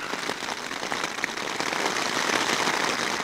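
Heavy rain pounding on a tent or tarp at a snowy winter campsite, a dense, steady hiss of drops with sharper close patters, loud and continuous with no voices.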